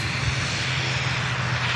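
A Boeing 747 jet on the runway at Manchester Airport gives a loud, steady roar of engines with a deep rumbling low end, continuous and unbroken.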